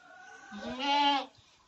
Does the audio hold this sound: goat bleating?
yes